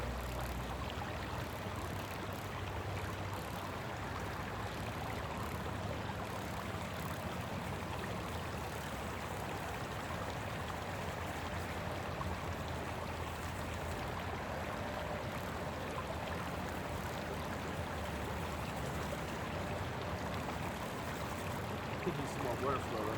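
Creek water at a Colorado gold mining site rushes in a continuous, even, moderately distant wash, with voices talking faintly over the flow.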